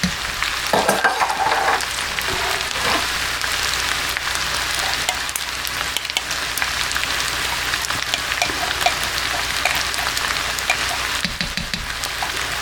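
Butter chicken sauce with two cans of tomato soup is stirred in a pot, giving a steady wet churning and scraping with a soft sizzle throughout, close and continuous with no talking.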